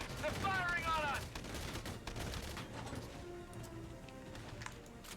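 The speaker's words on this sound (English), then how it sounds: "They're firing on us." Enemy soldiers in Valkyria Chronicles 4 open fire in rapid bursts of game gunfire, loudest early and then thinning to scattered shots, with a player speaking over parts of it.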